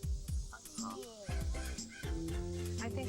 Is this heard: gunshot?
no